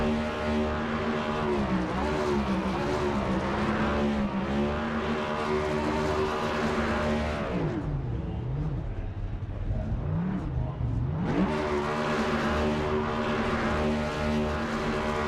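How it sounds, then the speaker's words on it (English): A race car's engine doing a burnout against the wall at Phoenix Raceway in a racing sim game: a loud, sustained buzzing drone that wavers in pitch, dips briefly midway, then roars back up. "you see the back of the car trying to do the burnouts against the wall"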